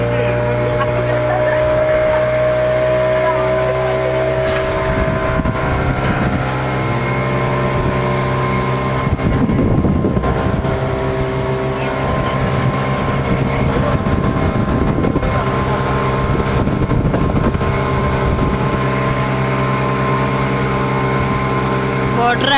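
A boat ride on the lake at the Ooty boathouse, with a steady droning engine hum running throughout and people talking over it much of the time.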